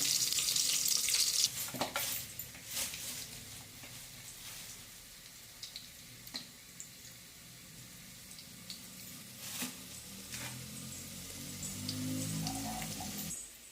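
Country chicken masala fries in a pan for a village-style curry, giving a close crackling sizzle with scattered scraping clicks from stirring and a louder burst of frying at the start and near the end.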